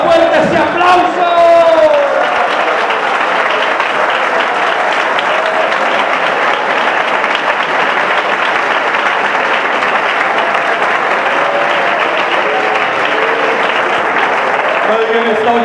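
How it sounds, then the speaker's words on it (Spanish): A church congregation breaks into loud, sustained applause with shouts and whoops mixed in, holding a steady dense roar throughout, while voices speak over the clapping. "Dele más fuerte ese aplauso."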